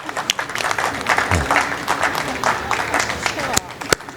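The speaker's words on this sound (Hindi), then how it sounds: "साथी जरा तालियों से," Audience applause at a literature festival jury session, brisk clapping from a gathered crowd with a voice talking over it and scattered louder individual claps, lasting about four seconds.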